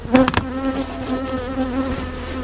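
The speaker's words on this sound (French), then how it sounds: "il y a beaucoup d'abeilles là-dedans" Honeybees swarming around an opened hive, a dense close buzzing hum with a few sharp bursts as bees pass near at the start, then a continuous droning mass of wings.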